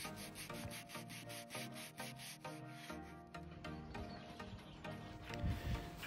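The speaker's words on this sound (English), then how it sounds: "I used higher grade sandpapers to gradually smooth down the hull" Sandpaper rubs rhythmically over the gel coat of a fibreglass boat hull, a quiet, steady back-and-forth scraping in short even strokes heard alone, with a louder scuff near the end.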